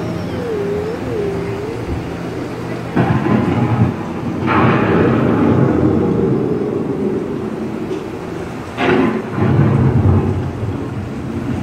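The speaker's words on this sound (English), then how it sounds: "The approaching storm may seem violent and destructive to us" Indoor ride thunderstorm effect at Epcot's Living With The Land: loud rumbling thunder claps roll in several bursts over a steady rain-like hiss, with no talking.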